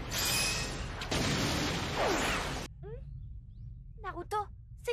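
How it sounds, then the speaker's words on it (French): A loud, sustained explosion rumbles and roars in a Naruto anime fight scene for nearly three seconds, then cuts off abruptly; afterwards talking can be heard over quieter background sound. "C'était une explosion."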